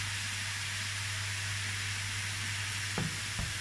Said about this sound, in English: stir it until the chicken is cooked